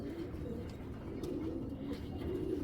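Pigeons, a pair of Naptha fancy pigeons, coo steadily in a low rolling murmur nearby, continuous and alone without speech.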